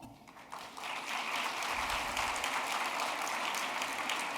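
A crowd applauding steadily at an 8th grade recognition ceremony as students are called up for awards, a dense wash of clapping that swells after a moment and carries on evenly.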